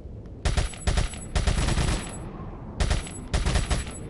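Submachine gun fire in Resident Evil 4, loud rapid bursts repeated several times with short pauses between them, close and sharp, with no voices.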